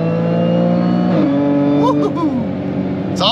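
An Audi B8 S4 with an Integrated Engineering high-pressure fuel pump, dual pulley and E17 fuel accelerates hard at full throttle in third gear, its engine droning loud and close with a steady rising note and a brief shift in pitch partway through.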